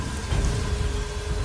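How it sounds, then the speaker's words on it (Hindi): Constant rain falls as a dense, steady hiss with a low rumble beneath it, even and unbroken throughout with no other sounds. "बस बारिश की लगातार ध्वनि"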